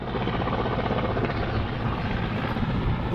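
A helicopter lifts off from a mountain helipad, its rotor and engine making a loud, steady drone that runs without a break throughout.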